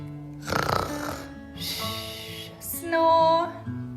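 A voice imitates loud snoring during a read-aloud of a children's story, with long breathy snore sounds rising and falling over about four seconds.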